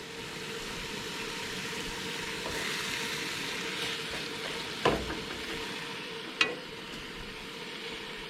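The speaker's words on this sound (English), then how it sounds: "Cooking on the Coleman stove." Jimmy Dean breakfast sausages fry on a Coleman camp stove outdoors, giving a steady, even sizzle throughout with two brief sharp pops or clicks partway through.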